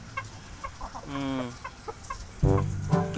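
Pigeons in a loft give short, throaty bird calls close by, with bursts of repeated cooing and clucking that grow louder near the end, and no talking.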